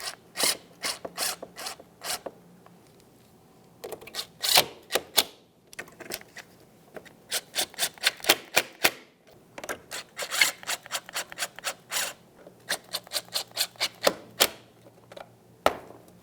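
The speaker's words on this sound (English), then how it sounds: "While holding this up, we'll just go ahead and tighten that nut." A ratchet wrench tightening a nut on a 2006-2012 Ford Fusion front bumper cover, sharp close clicks fired in quick bursts with short pauses between them, no talking.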